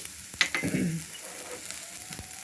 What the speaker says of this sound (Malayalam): ഇഞ്ചി, വെളുത്തുള്ളി ചതച്ചത്, ഇതെല്ലാം കൂടി ഇട്ട് ഒന്ന് ജസ്റ്റ് ഒന്ന് മൂത്ത് കഴിയുമ്പോൾ അതിലേക്ക് നമുക്ക് മസാലകൾ ഇടാം.